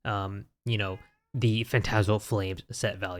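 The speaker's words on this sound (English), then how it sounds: "Sorry if you can hear my cat in the background." A pet cat meows in the background while a person speaks, the cat's short vocal calls blending into and between the spoken phrases.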